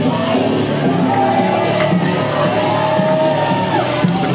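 A wrestling arena crowd at an independent show fills the space with a steady, dense murmur of voices, scattered shouts and occasional whoops, fairly loud and continuous throughout without any big surge of cheering.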